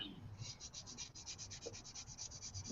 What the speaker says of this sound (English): just sanding a spot that I missed